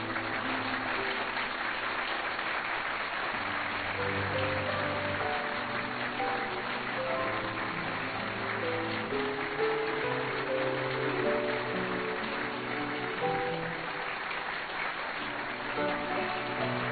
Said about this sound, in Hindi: जोरदार तालियों से स्वागत करिए मेरे दोस्त का।